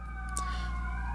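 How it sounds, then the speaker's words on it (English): Emergency vehicle sirens wail faintly in the background outdoors during a period of street protests, steady rising and falling tones layered over a low constant hum. "I apologize for the sirens in the background."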